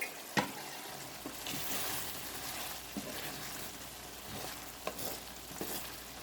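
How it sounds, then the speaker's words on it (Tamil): Prawn masala simmering and bubbling in a pan for spicy prawn stir-fry, a soft continuous frying hiss punctuated by several sharp spoon or lid knocks, fairly quiet with no talk. "பாருங்கள் ஃப்ரெண்ட்ஸ் நல்லா கொதிச்சு கொண்டு இருக்குது"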